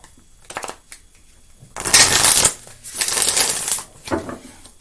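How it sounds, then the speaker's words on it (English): Matte-finish oracle cards are shuffled by hand in several bursts of riffling and flicking. The bursts are close and fairly loud, with quiet gaps between them. "You see how easy they are to shuffle?"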